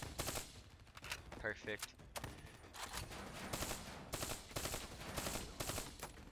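Rapid bursts of gunfire from Call of Duty: Black Ops 3 crackle in repeated volleys, fairly faint overall, while a player speaks briefly over the shooting.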